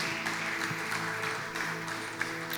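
Congregation applauding during a church service, a dense steady wash of clapping over sustained music, continuous and moderately loud throughout.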